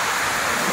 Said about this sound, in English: I got the small waterfall.